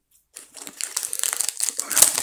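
Crinkling and crackling of heat-sealed plastic packaging on hamburger buns being pulled open, close up, with irregular rustles building in intensity.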